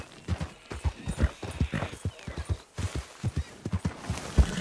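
Horse hooves clip-clop in Red Dead Redemption 2, a steady run of close, loud hoofbeats at trotting pace that shifts into a quicker, denser rhythm partway through. No one talks over it.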